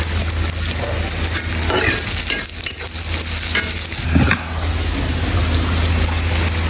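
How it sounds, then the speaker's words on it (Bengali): Onions fry down into crisp birista for a chicken roast masala, a loud, continuous sizzle with stirring scrapes and a constant low hum underneath, close up and unbroken. "এখানে আমরা পেঁয়াজটাকে বেরেস্তা করে নিই"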